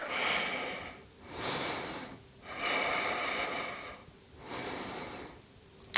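Slow, deep breaths during an advanced yoga practice, heard close and alone as four long airy inhales and exhales with brief pauses between them.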